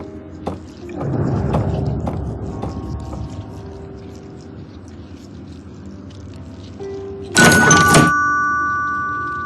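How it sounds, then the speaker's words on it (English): In the video game Gray Matter, quiet shuffling and faint background noise, then near the end a loud electronic doorbell chime rings once and its tone lingers as it fades. "The doorbell is ringing. Who can it be?"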